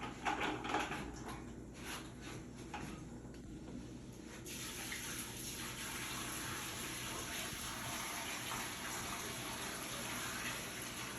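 Water from a bucket gushes and splashes steadily into a sewer line, a broad rushing pour that grows fuller partway through and continues without a break.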